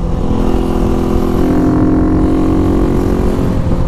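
A motorcycle engine roars steadily close by on a street, a loud continuous drone with a rising pitch midway, no voices over it.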